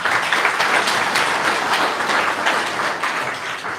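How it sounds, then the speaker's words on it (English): Loud, dense applause from a meetup audience in a San Francisco room, many hands clapping close by in a continuous even roar that eases slightly toward the end. "Big round of applause here for Angel."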